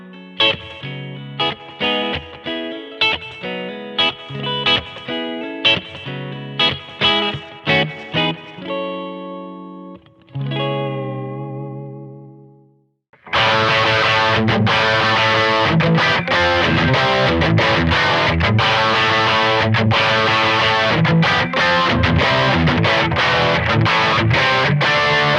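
Electric guitar played through a Line 6 HX Stomp effects unit into a Bose S1 Pro+ portable PA speaker, loud and alone: sharp effected plucked notes, a sustained chord dying away, then a dense distorted strummed passage.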